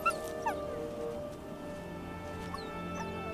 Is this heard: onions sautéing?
no